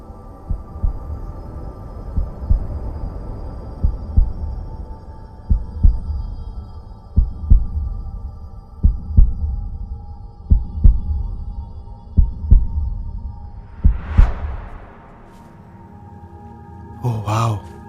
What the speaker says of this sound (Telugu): నీ హార్ట్ బీట్